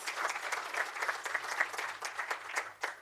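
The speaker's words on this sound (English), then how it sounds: "Can we clap for our MECOD students?" A university event audience claps for students, a dense, even burst of applause lasting a few seconds without speech.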